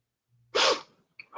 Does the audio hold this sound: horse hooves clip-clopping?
no